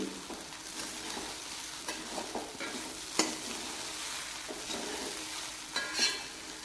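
Onions sauté in a hot pan for poha (flattened rice), with close, repeated scraping stir strokes over a continuous soft sizzle and no talking.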